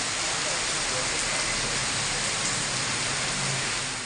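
Heavy summer rain falls in a continuous, dense hiss at moderate level, steady throughout with no voices.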